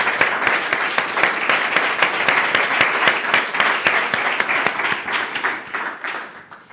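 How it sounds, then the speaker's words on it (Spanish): Audience applause at a panel presentation on the future of mobility, dense steady clapping that holds for several seconds and then thins out toward the end, with no voices over it. "vamos a despedir con un fuerte aplauso a estos compañeros"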